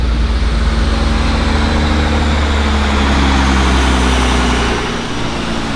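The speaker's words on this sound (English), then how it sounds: "754 horsepower, 662 foot-pounds of torque. Woo! That's a powerful 4-cylinder." A fully built big-turbo EcoBoost Mustang four-cylinder running on a dyno, a loud steady low engine drone with a sudden drop in pitch near the end as it winds down.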